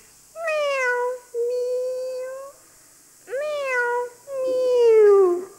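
A human voice imitates a cat with four drawn-out, wavering meows separated by short pauses. Each is close and clear, with nothing else heard around them.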